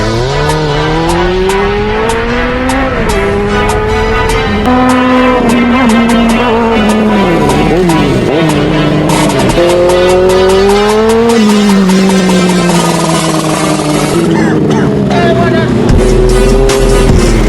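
A Kawasaki ZX11 ZZR1100 motorcycle fitted with a new Zexel exhaust revs loudly and close, its engine note repeatedly climbing and dropping in long, continuous throttle sweeps with no pauses.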